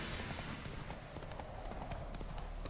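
A horse's hooves clip-clop at a steady trot while it is ridden across open country in The Witcher 3, a close, even rhythm of hoof strikes with a soft background bed of ambience.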